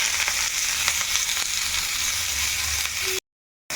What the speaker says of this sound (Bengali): এখন এই তেলের মধ্যে দিয়ে দিলাম একটু পেঁয়াজ